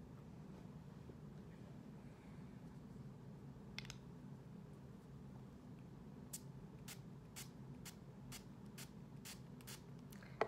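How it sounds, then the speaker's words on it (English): Makeup setting spray misted from a pump bottle: a quick series of about eight sharp, airy spritzes in a steady rhythm near the end, close and fairly soft over a low background hum, with no talking. "I just put setting spray."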